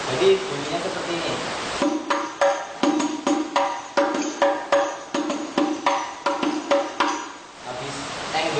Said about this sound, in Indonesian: Habis teng dung teng teng dilanjut ke pukulan naikkan.